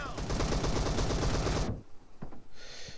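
Sustained automatic gunfire in PUBG, a dense rapid stream of loud shots for over a second and a half, then abrupt quiet with a few scattered distant pops.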